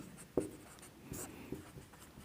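Chalk or marker taps and scrapes faintly on a classroom board during a chemistry lesson, with a couple of brief strokes over quiet room tone.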